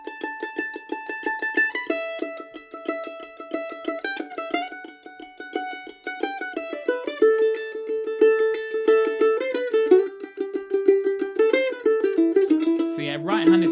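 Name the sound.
mandolin playing first phrase of Old Dangerfield C part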